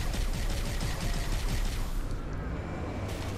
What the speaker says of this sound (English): hundreds of bullets coming towards you from things that you can't shoot down